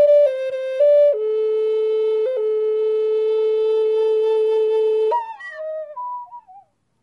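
A breathy Native American wooden flute holds a few pure sustained notes, then the tone breaks upward into a short squeaky, yelping bark flourish as it fades out.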